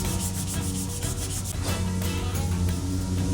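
Filler on a Fox Body Mustang is block sanded by hand with steady, rhythmic rasping strokes, close and continuous throughout, with no talking.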